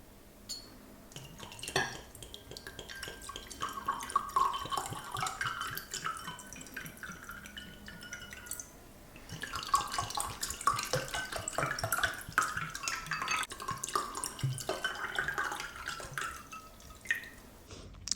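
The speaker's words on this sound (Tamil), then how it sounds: "இப்போ இதில் கோல்டு வாட்டர் சேர்த்துக்கிறேன்." Cold water pours into homemade sherbet syrup in a kitchen, a steady splashing trickle that runs for several seconds, pauses briefly, then resumes, fairly close and moderately loud.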